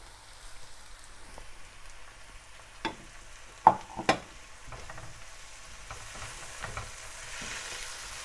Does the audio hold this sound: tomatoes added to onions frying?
yes